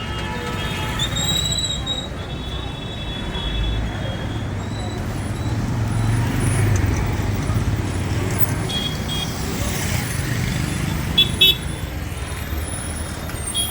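Steady roadway traffic at the Charminar bus stop in Hyderabad, with a continuous rumble of cars and buses, occasional horn toots and a distant voice mixed into the busy street noise.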